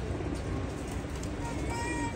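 Teddy pigeons coo softly in the background, a low steady murmur of calls lasting a couple of seconds with faint chirps above.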